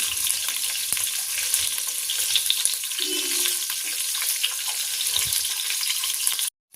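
Daing, dried fish, fries in a pan with a steady, bright sizzle and crackle. It runs close and fairly loud, with a few soft knocks and clinks beneath it, then stops abruptly at the end.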